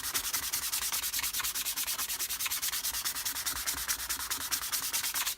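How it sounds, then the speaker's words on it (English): Red oak wood being scuffed by hand before staining, a rapid regular back-and-forth rubbing rasp of about eight to nine strokes per second, close and loud, alone with no talking. "So I'm just going to give it a quick scruff like this."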